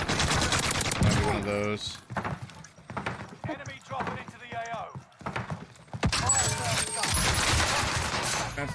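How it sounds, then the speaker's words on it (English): Gunfire in the shooter Warzone on Rebirth Island as players shoot each other: bursts of rapid automatic fire, with choppy pops in between, near and loud at both ends and quieter mid-stretch, while someone talks briefly. "Sounds like they're shooting each other."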